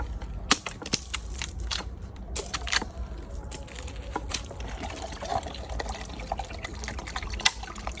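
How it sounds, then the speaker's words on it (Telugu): A tender coconut is hacked open with a few sharp, scattered chopping strikes, while its water sloshes and trickles out in the background close by. "ఇంకో బొండం కొడతాను"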